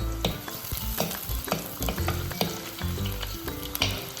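Curry leaves with ginger frying in hot oil in a pan, a loud, steady, crackling sizzle with spatter bursts throughout and no talking.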